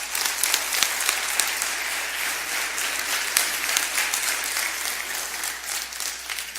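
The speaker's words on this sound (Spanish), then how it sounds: "Levántale un fuerte aplauso a la gloria del Señor." A church congregation bursts into loud, sustained applause, many hands clapping densely and evenly throughout, filling the hall with no break.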